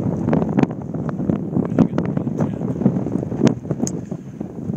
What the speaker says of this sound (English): It's cold and windy up here.